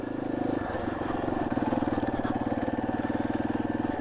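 A motorcycle on new tires rides along high-desert roads, its engine droning steadily up close with a rapid, even pulsing throughout and no talking.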